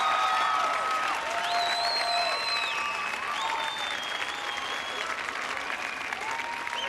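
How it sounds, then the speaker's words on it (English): A studio audience at the American Gladiators Season 3 Grand Championship gives sustained applause and cheers for the contenders, steady and loud, with a music cue of rising tones playing over it. "A round of applause for our 4 Grand Championship contenders."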